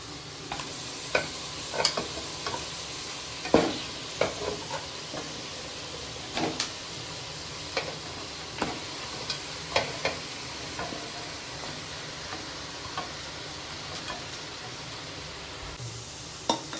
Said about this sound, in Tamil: நல்லா எண்ணெயிலே பரட்டி விட்டுக்கலாம்